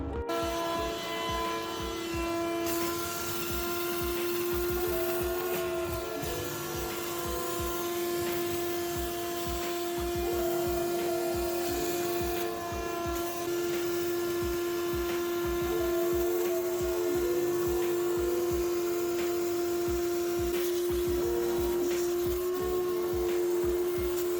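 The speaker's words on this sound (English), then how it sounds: "Cue annoying vacuum sounds while I suck up fluid." A shop vacuum sucks up blue fluid from a Toyota 2JZ-GE engine with a steady, droning motor, sustained whine and rumbling undertone, loud and close throughout, with no voices.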